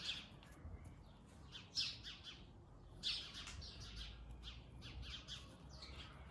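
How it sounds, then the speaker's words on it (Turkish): Faint bird chirps and squawky calls come in scattered bursts over a quiet outdoor background, sounding somewhat distant and overhead. "Kuşlar tepemizde."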